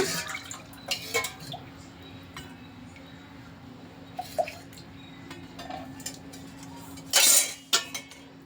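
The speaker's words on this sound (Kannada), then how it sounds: "ಸ್ವಲ್ಪ ನೀರು ಹಾಕೊಳ್ಳೋಣ" A little water goes into a dish of hot ragi mudde, with scattered clinks of a metal plate and utensils, light drips and splashes, and a brief louder clatter near the end.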